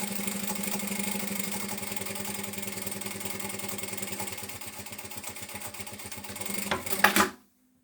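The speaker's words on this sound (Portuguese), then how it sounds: "Vamos lá passar aqui uma costura à beirinha" A sewing machine runs a steady, continuous stitch along the edge of a shoulder bag seam. It sounds close and even throughout, with a brief burst just before the motor stops abruptly near the end.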